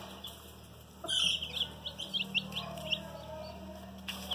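Newly hatched chicks peep in a string of faint, high, quick chirps over a low steady hum, with occasional louder cheeps.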